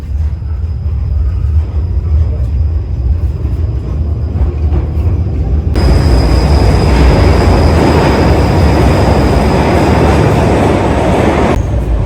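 An underground tram in Russia rumbles along the rails with a steady roar that suddenly grows louder and brighter midway, wheels hissing and clattering continuously.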